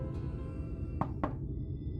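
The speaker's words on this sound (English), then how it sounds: "Let me just pound on their door harder and louder, over and over again." Two sharp knocks on a door in Final Fantasy XIV, spaced about a quarter second apart, rising over a steady bed of game ambience and music.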